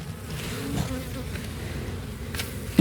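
Honeybees from a swarm hive buzz in a dense, steady drone close by during a spring hive inspection in Kentucky, with a few louder individual buzzes passing near.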